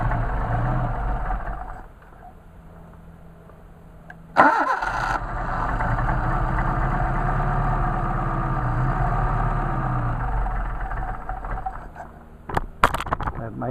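A Mercedes 190SL engine, tested after carburetor work, cranks and fires, then settles into a steady, loud idle close by with slight wavering, before a few clicks and knocks near the end.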